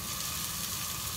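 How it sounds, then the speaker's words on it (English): Garlic and onions sizzling steadily in a hot pan, a continuous close frying hiss with no pauses, no voices. "We will saute the garlic,"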